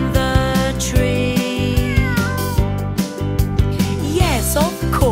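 A cat meows repeatedly, bright rising and falling cries over a steady, loud musical backing with a regular beat, and a voice speaks briefly.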